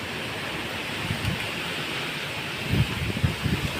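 Steady, broadband roar of strong typhoon wind, with low rumbling gusts buffeting the microphone toward the end.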